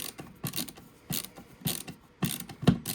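Ratchet clicks as bolts are snugged down on a 3D printed PLA V6 engine block, in short bursts of sharp mechanical ratcheting with pauses between them, close up, with no talking.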